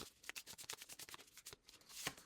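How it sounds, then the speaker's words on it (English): A deck of tarot cards is shuffled by hand, a fast run of crisp riffling and flicking close up, with no voices. "So I'm just going to shuffle them up."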